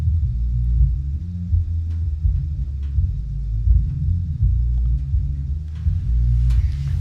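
Synthesized rumble imitating a heavy band heard from miles away, built with frequency modulation and filtering and no reverb: a dense, muffled low throbbing drone with pulsing swells and faint high clicks, steady and continuous.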